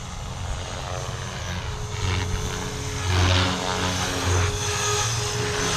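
A small Blade Fusion 360 radio-controlled helicopter buzzes overhead with a whirring, whining drone that swells and fades as it flies around nearby.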